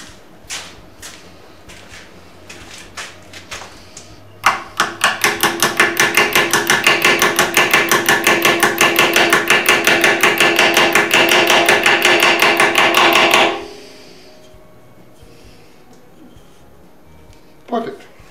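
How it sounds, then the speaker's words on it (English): A hammer taps rapidly and steadily for about nine seconds to tighten a part on a woodturned screwdriver, closely miked, preceded by a few scattered taps and followed by quiet handling. "Let me grab a hammer and I'll tighten that down on it."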